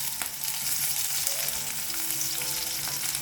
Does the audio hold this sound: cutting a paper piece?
no